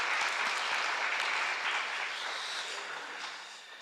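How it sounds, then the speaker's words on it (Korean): A church congregation claps together in a steady patter of applause that tapers off slightly toward the end, heard from a moderate distance. "한번 박수 좀 한번 해드릴까요?"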